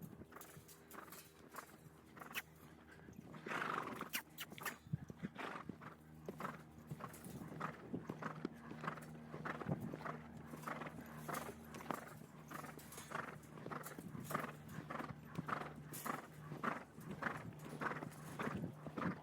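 A horse's hooves beat out a loping gait during a training session, rhythmic thudding footfalls that carry steadily from moment to moment, with no talk over them.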